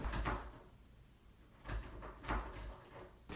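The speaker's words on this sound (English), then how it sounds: "So I take the key and I put it in the door." A key is put into a hotel room door lock, producing a few separate clicks and thuds from the latch and door, close by, with quiet room tone between them and no speech.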